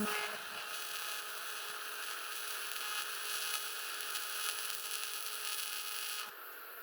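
TIG welding on a dirty, contaminated aluminum engine casting gives a steady close electric buzz and crackling hiss that holds evenly for several seconds, then drops off near the end.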